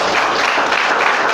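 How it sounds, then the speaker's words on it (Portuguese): A church congregation claps together in a brief, loud burst of dense applause that fills the room. "Vamos aplaudir e glorificar."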